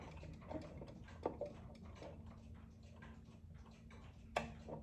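A small alarm clock ticks in an even, faint, close rhythm over low background hum, with no talking.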